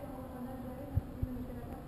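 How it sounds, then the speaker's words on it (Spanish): A wasp buzzing close by at Plaza de España in Seville, a steady insect drone lasting throughout with a couple of brief thumps, fairly quiet and alone. "Cuidado, cuidado, cuidado esa avispa"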